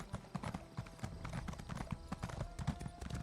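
Rapid hoofbeats clatter in a quick, rolling rhythm as a horse gallops in the video game Elder Scrolls Online, fairly close and unbroken from start to end.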